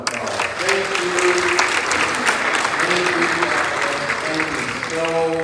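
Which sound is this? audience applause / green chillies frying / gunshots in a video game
audience applause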